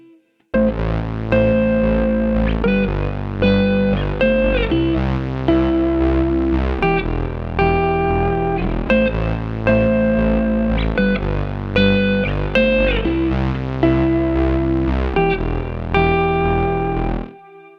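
Electric guitar plays a steady, looping pattern of compound thirds, heavily processed with distortion and modulation effects, continuous and loud throughout.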